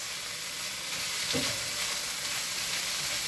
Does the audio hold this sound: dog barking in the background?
no